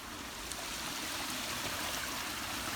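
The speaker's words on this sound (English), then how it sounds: "so that you could see like the little waterfalls coming down" Water spills over in small cascades in a waterlogged wood at Buncer Wood, Blackburn, a steady close rushing and trickling flow that runs unbroken throughout with no voices.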